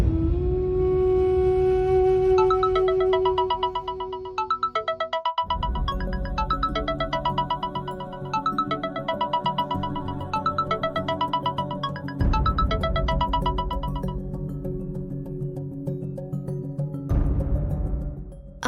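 A phone ringtone plays a repeating electronic melody for a long stretch, loud and close, with brief pauses between phrases and no voices.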